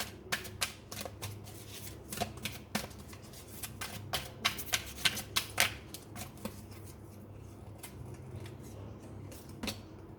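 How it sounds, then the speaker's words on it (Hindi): Energy oracle cards being shuffled by hand, a steady run of crisp riffling snaps and flicks, fairly close and moderately quiet, with no talking over them. "चलिए अभी मैं एनर्जी ऑरेकल से कुछ कार्ड्स निकाल लेती हूँ"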